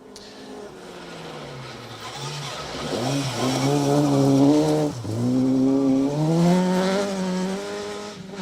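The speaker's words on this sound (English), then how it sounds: "Bradley Howlett, Simon Howlett in the Avenger 1600, trying really hard, looking good as well." A Hillman Avenger 1600 rally car at the 2025 RAC Rally roars along a forest stage, its engine revving hard through rising and falling gear pulls, loud and close, with a brief lift before climbing again.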